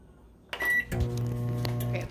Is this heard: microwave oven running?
yes